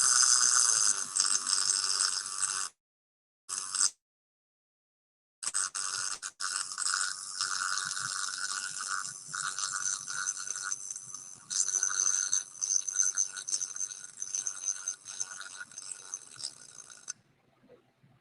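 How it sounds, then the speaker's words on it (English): Aluminum welding with hot start on gives a harsh, buzzing arc crackle, close and loud, that starts, breaks off twice in short gaps, then runs steadily for about twelve seconds before cutting off. "This next one, we're going to do hot start is on, but I want you to focus at the very beginning of the weld."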